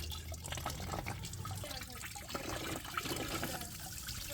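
Coolant drains from a 2015 Chevrolet Camaro LT RS, a steady liquid trickle and splatter running continuously throughout, close and moderately loud, with no talking.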